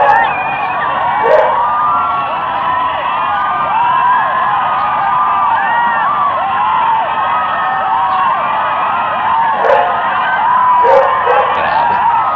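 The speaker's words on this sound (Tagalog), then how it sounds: "panoorin ho natin yung crowd ng mga tao doon sa pagpunta ni Inday Sara doon sa ibang bansa" A dense, very large crowd at a political rally overseas keeps up a continuous roar of cheering and shouting, with scattered louder whoops rising above the steady wash of voices.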